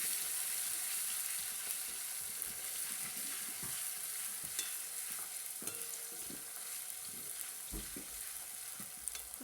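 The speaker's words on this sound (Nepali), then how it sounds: "र अब यो जिरालाई पनि यसमा भुट्नुपर्ने हुन्छ।" Cumin seeds and reddened onion fry in a pan, giving a soft, continuous sizzle with a few light stirring knocks, fairly quiet and close, with no voices.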